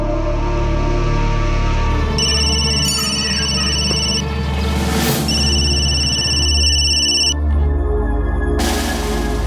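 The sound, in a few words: telephone ringing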